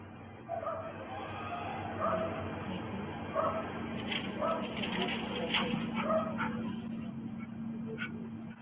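A dog barks and whimpers repeatedly at moderate distance, yips scattered through the stretch with people talking over a steady background hum.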